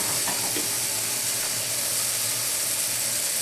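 Cherries cook in a hot pan with a continuous bright sizzle and hiss that stays even throughout, close and fairly loud, with no voices.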